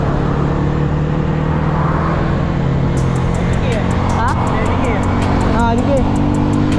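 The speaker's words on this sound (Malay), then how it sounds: "Aku saja buat running dengan motor aku." A Honda Wave125 motorcycle with an engine problem runs steadily close by, its even hum continuing while people talk over it, and a quick series of sharp ticks appears in the second half.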